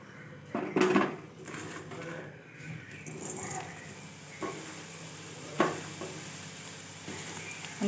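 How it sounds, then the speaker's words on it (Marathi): Potato finger chips dropped back into hot oil for a second fry, with a steady low sizzle, a few clinks and stirring sounds from utensils against the pan, and brief background voices. "तेव्हा मी पुन्हा हे तेलात टाकते"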